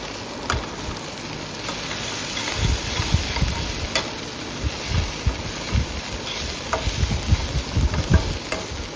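Bitter gourd sabzi fries in a kadai over a slow gas flame, a steady soft sizzle broken by repeated scraping strokes of a ladle stirring it close up.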